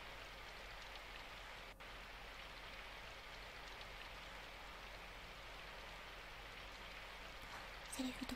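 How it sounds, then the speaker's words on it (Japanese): Rain in the Symphonic Rain visual novel falls as a faint, even hiss that continues unchanged, broken by a single soft click and a small clatter near the end. "しかしそれもすぐに雨音が塗り替えていく。"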